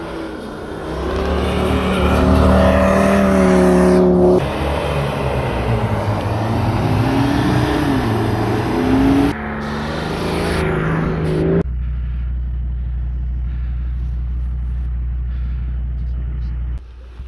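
A car engine revs hard under heavy load in the Khevsureti mountains, a loud, strained roar rising and falling close by, then settling into a steady low drone as the strain eases.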